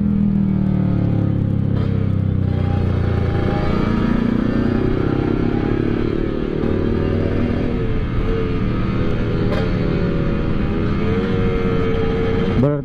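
A Yamaha RX King two-stroke motorcycle riding on the road, its engine a loud, continuous raspy drone with shifting pitch as it revs, heard up close with wind and road rumble.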